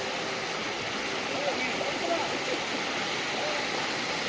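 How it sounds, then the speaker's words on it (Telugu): A waterfall pouring down a hillside, its broad steady rush filling the whole stretch at an even loudness, with faint voices mixed in beneath the roar. "కొండ మీద నుంచి పారే జలపాతం చాలా కనువిందుగా ఉంది."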